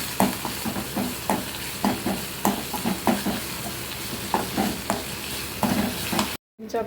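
Cauliflower sizzling in a hot pan while a utensil stirs and scrapes in repeated strokes, close and steady, then a brief cut to silence at the end.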